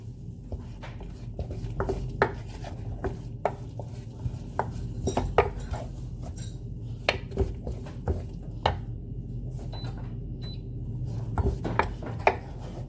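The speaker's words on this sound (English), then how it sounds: "just keep on stirring on the medium heat" Garden egg (aubergine) fufu stirred in a pot over medium heat, a spoon repeatedly knocking and scraping against the pot in an irregular clatter, close and clear.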